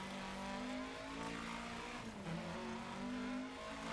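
A rally car in the video game Dirt Rally 2.0 holds a steady, loud engine drone with slight rises and dips in pitch as it drives, with no voices over it.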